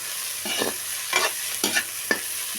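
Prawn fried rice with capsicum is tossed and stirred in a hot pan, giving a continuous sizzle broken by four distinct scraping stirs spaced roughly half a second apart, close and without talk.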